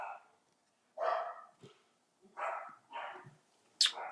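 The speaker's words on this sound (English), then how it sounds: "You can hear my dogs barking probably." Household dogs barking indoors in several sharp, separate bursts spaced about a second apart, fairly close and loud, with a higher yip near the end.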